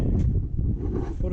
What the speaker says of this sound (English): Some wind gust right now.